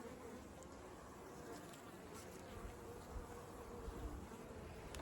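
Faint, continuous insect buzzing from bees and wasps swarming around an open beehive in August, a dense low hum with occasional nearer passes, heard alone without talk.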